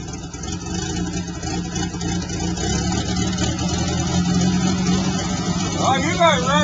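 A 1985 Jeep engine idles after a cold start with a steady, rough low rumble nearby, while people talk over it.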